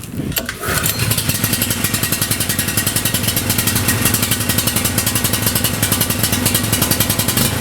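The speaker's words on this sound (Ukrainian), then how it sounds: "Світла немає, десь чути працює там генератор" A generator runs steadily during a power outage, its engine chugging in a fast, even rhythm that stays loud and constant after a brief start at the beginning.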